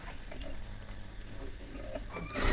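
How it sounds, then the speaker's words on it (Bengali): A sewing machine stitches the collar of a child's punjabi with a steady, low mechanical whir and faint ticking throughout, growing louder near the end. "তারপর আমরা কলারটাকে সেলাই দিব।"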